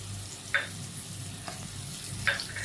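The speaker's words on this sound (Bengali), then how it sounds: "তো এই আদা রসুন পেস্ট দিয়ে আমি তো পেঁয়াজটাকে একটু কষিয়ে নেব" Onion softening with ginger-garlic paste in a home-kitchen pan gives a low, steady sizzle, with two sharper scrapes of a spoon stirring about two seconds apart.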